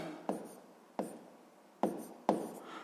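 A pen marks out a fraction by hand during a sixth-grade math exercise: four separate, faint scratchy strokes, each a short tap followed by a brief drag, in a quiet room.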